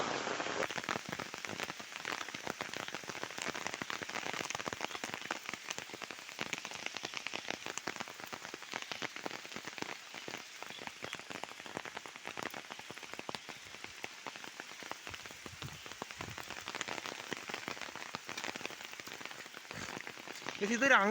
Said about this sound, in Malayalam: അടുത്ത മഴ തുടങ്ങി.